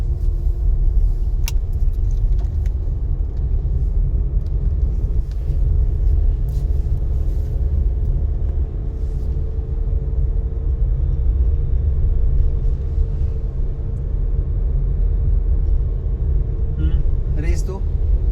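An automatic car drives slowly over a potholed road, its engine and tyres giving a loud, steady low rumble throughout, with occasional rattles and people talking inside.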